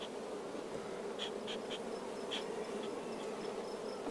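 Honeybees buzz around an open top-bar hive during an inspection, a steady close hum with a few sharper passing buzzes and no one talking.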